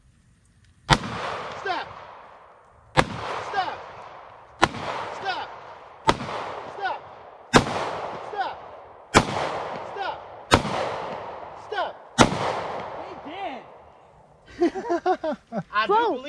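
Eight loud, sharp handgun shots ring out at roughly 1.5-second intervals on an outdoor shooting range during gun retention training, each with a short echo tail, followed by brief talk.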